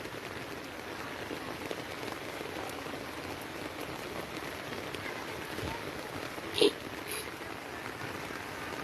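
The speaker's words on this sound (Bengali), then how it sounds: "প্রচুর পরিমাণে বৃষ্টি।" Heavy steady rain falls on a street of closed shops, a continuous even wash of drops at moderate loudness, with one brief sharp knock partway through.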